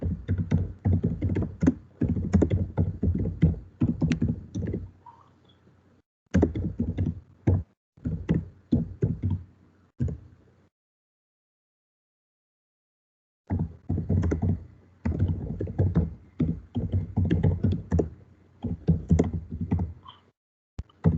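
Keys are typed on a computer keyboard during a Linux lecture, in close, busy bursts of clicking and tapping broken by a few pauses, including one long silence midway.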